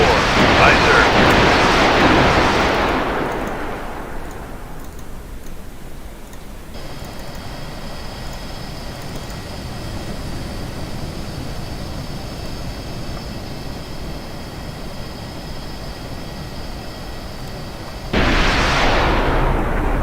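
Weapons fire from an enemy Krivak warship in the submarine game Cold Waters: a loud rumbling blast that fades over a few seconds, a long low hum with a steady tone, then another heavy burst at the end.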